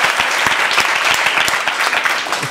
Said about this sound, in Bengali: তার জন্য সবাই জোরে একটা হাততালি দাও